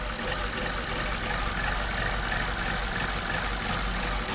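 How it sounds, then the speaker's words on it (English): A 1.4 petrol engine in an Opel Corsa D idles roughly, a steady low rumble with a faint uneven knock running throughout, heard alone without talk. "the engine is running a little rough. It's not working properly."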